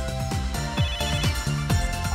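The N-Gear phone in Hyperdimension Neptunia plays its ringtone, a bright synthesized melody of short repeating phrases with a regular rhythm, clear and close with no voices.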